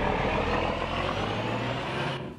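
A truck engine rumbles steadily at close range, and an air brake hisses near the end as the sound cuts off, with no talking.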